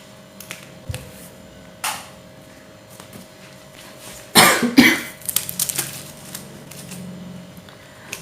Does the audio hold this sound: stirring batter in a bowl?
no